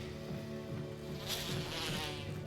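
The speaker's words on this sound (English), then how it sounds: "Not the bees." A swarm of bees drones steadily from a Resident Evil game, the buzzing layered over game ambience and holding a constant hum for the whole stretch with no speech.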